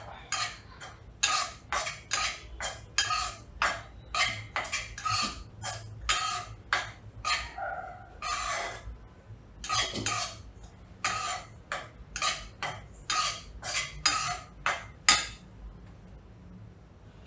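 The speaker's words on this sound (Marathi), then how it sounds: "काजूची पावडर आहे ना ती अगदी थोडीशी गरम करायची." Cashew powder being warmed and stirred in a kadhai for kaju katli, a spoon scraping the metal pan in a steady run of close, bright clinks and scrapes with short pauses, no talk.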